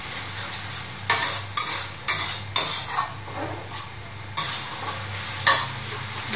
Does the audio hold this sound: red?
yes